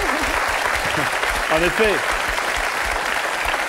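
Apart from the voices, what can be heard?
studio audience applauding on a French game show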